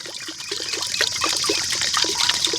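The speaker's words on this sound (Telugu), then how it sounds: "కొద్దిగా నీళ్ళు అయితే పోసుకుందాం" Water trickles and splashes into a clay pot in a steady, close pour that grows slightly louder as it fills.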